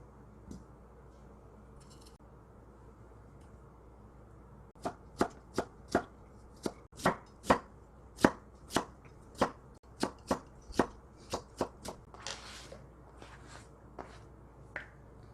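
A knife slicing vegetables for kimchi on a cutting board, a quick run of about twenty crisp, evenly spaced chops, close and clear after a few quiet seconds.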